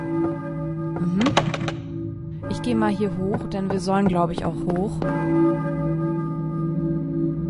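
A church bell tolls inside the Balkan church of the PlayStation game Silent Hill, a steady, ringing tone that carries on throughout while someone talks over it in German.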